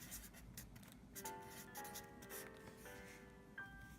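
A pen scratches on paper in short strokes, quiet and close, with soft rubbing and squeaky marks as givens for a physics problem are written down.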